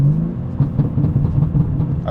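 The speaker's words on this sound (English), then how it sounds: "in the car, I'm hearing a little bit of the intake sound" BMW M3 fitted with titanium front mount intakes, heard from inside the cabin with windows closed: a steady low engine drone and faint intake whir, fluctuating slightly as the car moves, with no talking.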